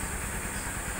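Tricycle motorcycle engine idles steadily at about 1,000 RPM, an even close rumble with fine regular pulsing and no talk.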